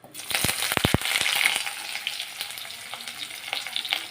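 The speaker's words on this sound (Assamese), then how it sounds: "পিঁয়াজ আৰু ক'লা জিৰা মিক্স কৰি তেলত ভাজি ল'লোঁ" Chopped onion and black cumin seeds fry in hot oil in a wok. A few sharp clatters of stirring come first, then a steady, moderate sizzle continues alone.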